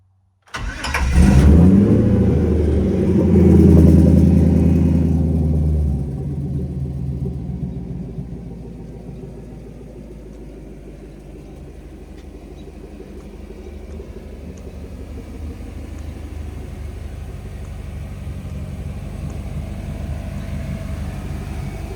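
A Jeep LJ fitted with a Bruiser Conversions 6.6 LX3 V8 cranks and fires with a loud, deep roar, then settles into a steady, lower rumbling idle that runs on alone for the rest of the time.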